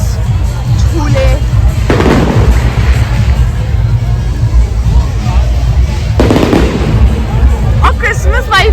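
Bonfire Night fireworks and firecrackers crack and boom continuously at an outdoor fair in the UK, loud, dense bursts overlapping over a constant crowd roar, with voices mixed in.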